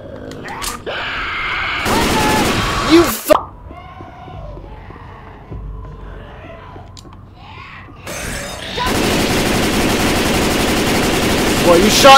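Shotgun gunfire in the video game Dead Air: a couple of loud blasts early, then a long, sustained burst of heavy firing near the end, with someone talking over the quieter middle stretch.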